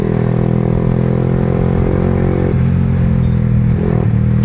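Yamaha R15M sport motorcycle (2025 model) ridden at high speed, its steady engine drone loud and continuous with slight pitch shifts as it shifts gears, wind noise throughout, no talking.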